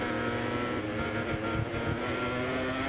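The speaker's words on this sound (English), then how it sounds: "I was revving the hell out of that Honda then" Honda MotoGP bike engine in the MotoGP 24 racing game revving hard and continuously at high pitch, a steady loud drone with shifting harmonics throughout.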